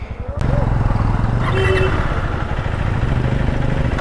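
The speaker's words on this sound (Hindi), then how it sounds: "First ride of KTM Adventure 390." A KTM Adventure 390 motorcycle engine runs steadily at a low idle-like throb on its first ride, fairly loud and close, with someone talking over it.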